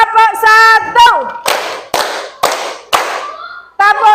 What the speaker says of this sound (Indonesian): Tepuk 1.